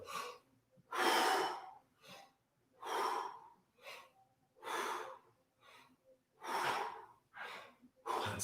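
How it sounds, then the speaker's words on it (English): Rhythmic sharp breaths during a breath squat vocal exercise, a series of about ten quick gasping inhales and exhales in a steady pulse, close and fairly loud with short pauses between them and no talk. "you want to counteract that with the breath squat"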